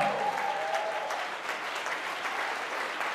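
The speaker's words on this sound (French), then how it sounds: "Et tu acclames Jésus, s'il te plaît." A church congregation applauds and cheers for Jesus during a pastor's teaching, steady dense clapping from a large crowd filling the room without a break.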